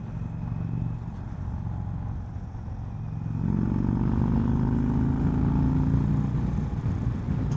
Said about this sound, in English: The Thunderstroke 116 feels and sounds great.